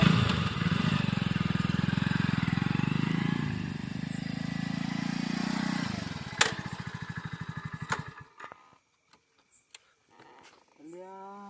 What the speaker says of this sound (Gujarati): બાઇક તો બંધ થઈ ગયું